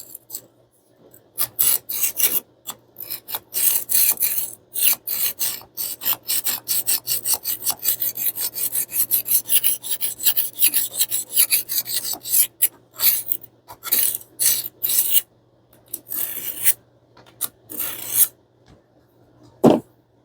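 A kitchen knife is drawn repeatedly across a rolling sharpener with diamond discs, producing loud, close, rhythmic rasping strokes that come in rapid runs with short gaps.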